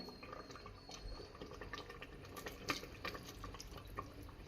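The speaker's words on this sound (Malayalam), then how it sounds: "ഇനി നമുക്ക് അതിലേക്ക് മരുന്ന് ഒഴിച്ചു കൊടുക്കാം" Liquid herbal medicine poured into a container during home preparation, a steady quiet trickling and splashing with scattered drips throughout, faint and close.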